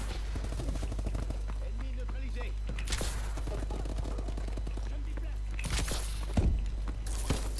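Rapid gunfire in a multiplayer shooter video game, bursts of automatic shots with a couple of louder blasts, mixed with a player's excited talking throughout.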